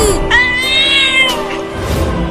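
A cartoon cat meows in a long, rising-and-falling wail, loud and close, set against a busy animated soundtrack.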